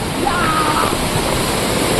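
Steady, dense roar of rushing water at Amboli Falls filling the whole clip, loud and continuous, with no breaks.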